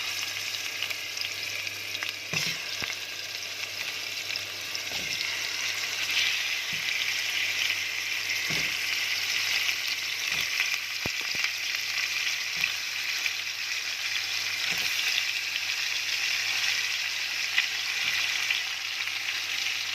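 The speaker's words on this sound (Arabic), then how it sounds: "بستنى عندي لغايه ما تسيح خالص وتعمل الصوت ده. بنزل اللحمه" Meat drops into melted fat in a pan and fries with a steady, dense sizzle and crackle, broken by occasional stirring scrapes and clicks. The sound runs alone, close and continuous, with no speech.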